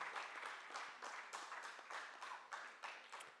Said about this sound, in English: Give another round of applause for Siboney,